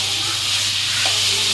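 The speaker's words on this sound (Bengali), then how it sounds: "আর এদিকটা মাছটা বাইজা নিতেছি" A fish frying in a pan for a home-cooked Bengali meal, a close, continuous sizzle and crackle of hot oil.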